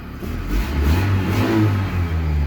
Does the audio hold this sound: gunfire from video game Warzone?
no